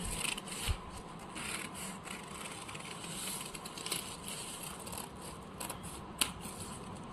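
Scissors cut through cloth for a full-sleeve blouse, giving a soft, steady crisp rasp of blades at close range with a few sharper snips, fairly quiet and with no talking.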